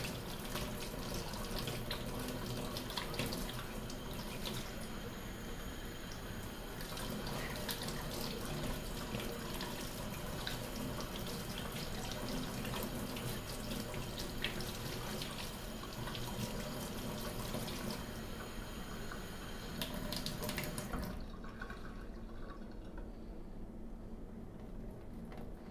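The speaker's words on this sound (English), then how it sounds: "we use like lukewarm water, and we wash it under the running water" Lukewarm tap water runs in a steady, even rush over electrodes being washed under the faucet in a brain stimulation lab, continuing for about twenty seconds before cutting off.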